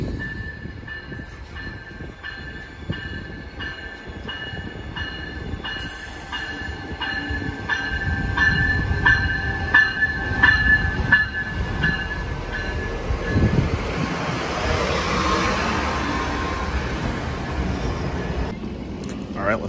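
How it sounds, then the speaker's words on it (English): A Coaster commuter train rumbles into a station and slows, wheels squealing with rhythmic clacking, the roar swelling as it nears and then steadying. "Here comes the train to pick us up."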